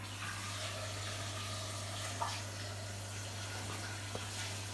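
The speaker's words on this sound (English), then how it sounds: "Give them a rinse so the starch comes off." Tap water runs steadily into a kitchen sink as starchy boiled food is rinsed, a soft, even flow heard close up with a couple of faint clinks.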